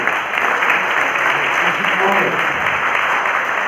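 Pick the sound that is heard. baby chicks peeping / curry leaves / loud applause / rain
loud applause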